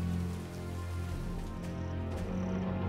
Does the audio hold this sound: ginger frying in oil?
no